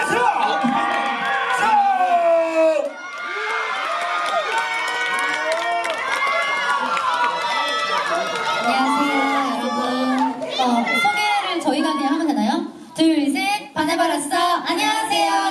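An outdoor crowd at the Gimpo youth song festival cheers and shouts for a K-pop girl group, with loud high-pitched screams and whoops running continuously and close by.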